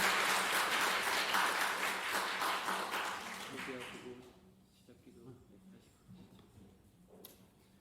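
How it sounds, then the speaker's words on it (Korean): A church gathering bursts into loud, steady applause to welcome a priest, then the clapping fades away after about four seconds, leaving quieter room noise and faint scattered sounds. "큰 박수로 맞이해 주시기 바랍니다."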